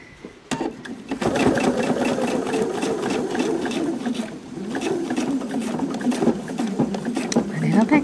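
A sewing machine back stitching fabric pattern pieces, a steady rapid mechanical patter running nearly throughout at close range, with brief pauses and a click at the start.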